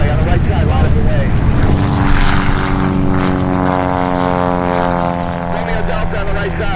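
A propeller plane powers up for takeoff at Oshkosh during EAA AirVenture, a loud close engine drone with rising harmonic tones as it accelerates, while a voice talks over it.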